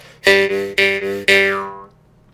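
Three twanging jaw harp plucks, each a loud buzzy boing that rings and fades, the last one decaying longer into silence.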